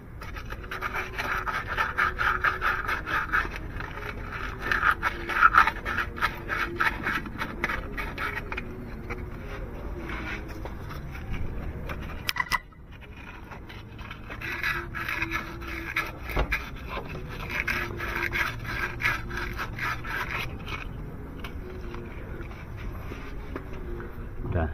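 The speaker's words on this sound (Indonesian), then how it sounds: "Kita bersihin cuman pakai ini aja, amplas." Steady rasping scrubs of sandpaper on a Honda Accord radiator bypass hose fitting rub back and forth in long rhythmic runs, pausing briefly midway, with occasional quiet talk in the background.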